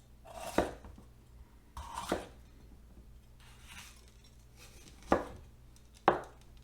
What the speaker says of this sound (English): So for this case, I'm going to switch to my chef's knife. Go ahead and chop off the ends.